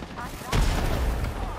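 A video game explosion hits about halfway through as a sudden loud boom, followed by a rumbling, crackling tail that fills the rest of the moment.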